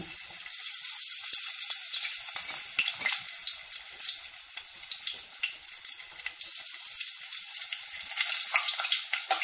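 Sambusa frying in preheated oil, a bright, dense crackling hiss that holds steady and swells slightly near the end, close and continuous with no voices.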